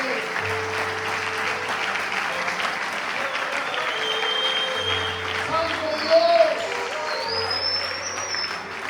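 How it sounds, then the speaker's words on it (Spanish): Steady applause from a large church congregation, sustained throughout, with music and voices faintly underneath. "Si le va a aplaudir, apláudale bien fuerte a Él."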